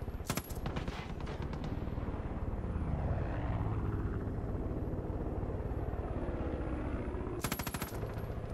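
A Hind D attack helicopter in a video game drones with a continuous rotor and engine roar, punctuated by rapid bursts of machine-gun fire near the start and end.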